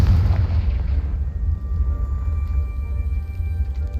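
A Confringo spell blast in Hogwarts Legacy produces a loud, close explosion with a sharp burst that fades into a deep, rumbling low boom lasting several seconds, with no talking over it.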